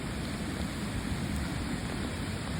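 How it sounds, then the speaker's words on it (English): Heavy rain pouring down alongside rushing runoff water beside a flooded road, a dense, steady roar filling the whole clip with no break. "A lot of rain."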